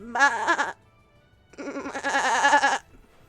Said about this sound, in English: as the hills are crawling with sheep.